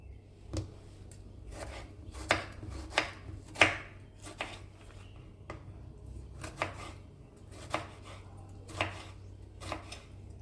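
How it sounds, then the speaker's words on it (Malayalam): A knife finely chops tomato on a board for a Kerala banana-stem kootu curry, giving about a dozen close, crisp strikes in uneven bursts with short pauses between them, and no talking. "അരിഞ്ഞെടുക്കാം."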